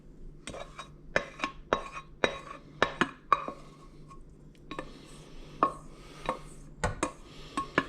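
Metal utensils scoop fresh tomatoes out of a pot for a pasta pomodoro sauce of tomatoes and onions. There are a dozen or so close, sharp clinks and scrapes at an irregular pace, with quiet gaps between them.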